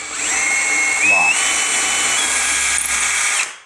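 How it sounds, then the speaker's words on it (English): A power drill whines loudly up close as it bores into a wooden cabinet drawer for hardware, the motor pitch rising and dipping under load before stopping. "Back the drill bit out to clear the debris."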